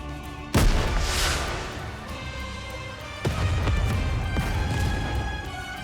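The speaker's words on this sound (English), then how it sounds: "a shell flies from the rocket launcher. And a resounding explosion causes the entire snowfield to be blanketed in thick plumes of white smoke." Rocket launcher shell fired and exploding across a snowfield in the game Goddess of Victory Nikke: a sharp boom early, then a second heavy blast with rumbling, crackling debris trailing off.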